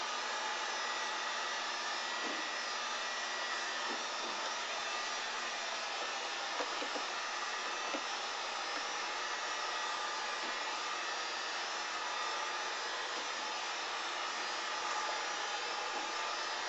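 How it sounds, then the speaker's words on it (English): A heat gun blows steadily while warming klister wax on skis, a constant close airy roar with a few faint scraping ticks underneath. "So I'll get as much as I can with the heat gun, heating this up and just bringing it up"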